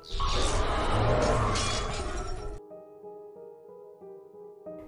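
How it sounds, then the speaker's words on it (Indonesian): Glass shatters in a loud, crashing burst of breaking shards lasting a couple of seconds, followed by a faint lingering ringing tone as the debris settles. "sebuah bayangan muncul hingga kaca pun pecah dan mengenai kedua matanya"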